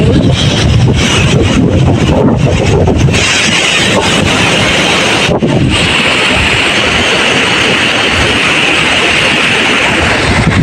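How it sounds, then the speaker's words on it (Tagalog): Strong typhoon wind roars continuously on a coast, buffeting the microphone with loud, rough gusts throughout. "sobrang lakas ng hangin"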